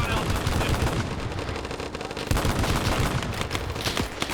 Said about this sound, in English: Man, portable 50 cal